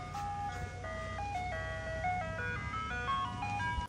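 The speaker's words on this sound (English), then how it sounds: "There's the ice cream truck." An ice cream truck jingle plays a bright, tinkling melody of electronic notes, with a low engine rumble beneath it.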